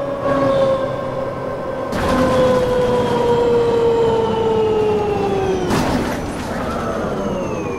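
An ambulance siren in the OMSI 2 bus simulator game, a loud wailing tone that sweeps slowly downward, cut by two sharp jumps and ringing clearly throughout with no talk.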